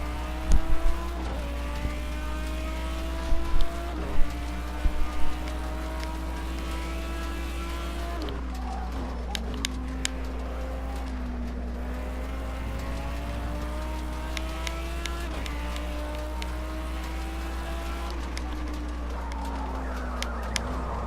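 Car engine in a racing video game, droning continuously and rising in pitch through repeated gear shifts, with a steady low hum underneath and occasional scrapes and bumps.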